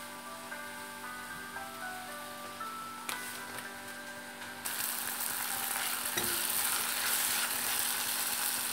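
Tomato paste and spices fry in oil in a pan, starting as a soft bubbling with faint clinks, then swelling into a loud, steady hiss and sizzle.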